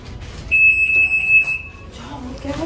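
A loud, steady high-pitched store security alarm tone sounds for about a second at the exit, with voices talking under and after it.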